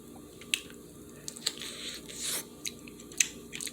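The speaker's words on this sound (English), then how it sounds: "let me taste one for you guys, because I'm dying to bite into one." Biting into spicy hot chicken wings, with a few soft, wet squishing bites and chewing sounds close up, quiet and with no speech.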